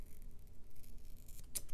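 Scissors snipping through paper while crafting a holiday tag, a quiet close cut with a crisp snip near the end in a calm indoor room.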